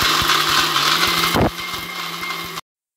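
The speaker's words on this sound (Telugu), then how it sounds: "ఇలా యాడ్ చేసుకొని రెండింటిని బాగా మిక్సీ పట్టుకోవాలి." A kitchen mixer grinder whirs loudly, grinding urad dal together with jaggery for sunnundalu sweets. The motor drone runs steadily, its pitch shifts once partway through, and it then cuts off abruptly to silence.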